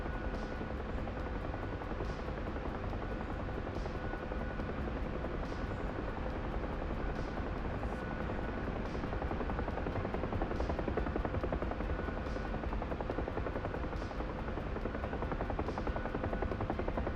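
Steady, loud helicopter rotor and engine drone with a faint regular blade beat, heard from inside the aircraft during a flight training lesson.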